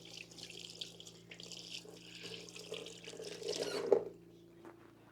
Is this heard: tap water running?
yes